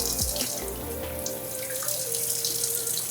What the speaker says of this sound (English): I'm going to go ahead and rinse out these tubes while I'm waiting.